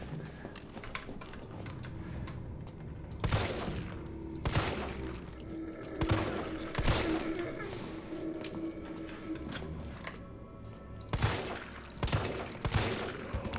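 Pistol and other gunfire in the survival horror video game Resident Evil 3, several sharp shots scattered irregularly over a busy game soundscape of ambient noise and effects, with a voice talking at times.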